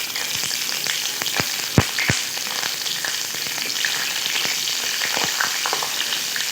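Whole spices, a bay leaf and three slit green chilies frying in hot oil, giving a loud, dense crackling sizzle with scattered sharp pops and spatters throughout, heard up close without any voices.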